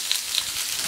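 Small carrots sizzle steadily on a hot plancha griddle, a close, even frying hiss with faint crackles and no voices.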